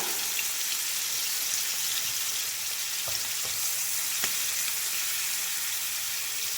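Curry leaves and shrimp sizzle in a frying pan for a Kerala-style shrimp fry, a steady close-up hiss of hot oil with a few brief clicks and knocks from stirring.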